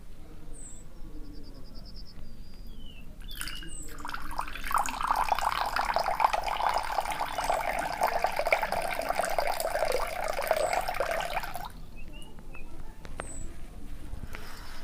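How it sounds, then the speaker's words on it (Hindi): Water pours in a steady rushing stream close by for several seconds, starting and stopping abruptly, with quieter background and faint chirps before and after. "पानी की जो आवाज़ है वो मुझे बहुत अच्छा लगता है।"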